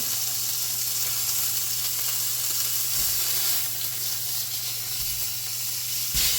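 Thick sirloin steak sizzling loudly in a pan after being flipped, a close, continuous bright hiss and crackle with a low steady hum beneath it and a brief louder flare near the end.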